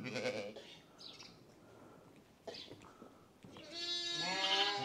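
Sheep bleat in a lambing pen, several faint, wavering calls scattered across the stretch, with a longer, louder bleat at the end amid quiet farm background.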